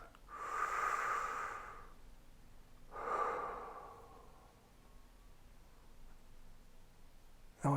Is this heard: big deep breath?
yes